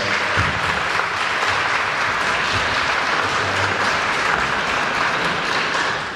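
Comic convention audience at a Q&A applauding, a loud, continuous burst of many hands clapping that holds steady for about six seconds and eases off at the close.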